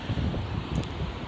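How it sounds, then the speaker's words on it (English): Wind on a blustery day in Hong Kong under a typhoon signal as Super Typhoon Mangkhut passes at a distance, a steady low rumbling rush with gusty buffeting against the microphone throughout, no voices. "It's a little bit windy"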